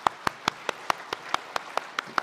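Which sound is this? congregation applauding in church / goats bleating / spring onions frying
congregation applauding in church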